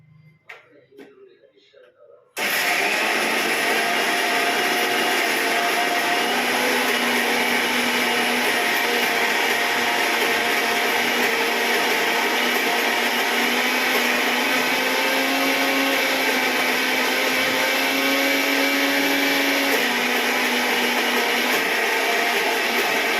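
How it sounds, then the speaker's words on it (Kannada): A mixer grinder grinds ingredients into a fine paste with a loud, steady whirring roar. It starts abruptly after a moment of quiet household sound and runs continuously to the end. "ಈಗ ಇದನ್ನು ರುಬ್ಕೊಂಡು ನುಣ್ಣಗೆ ರುಬ್ಕೊಂಡು ಬರಬೇಕು"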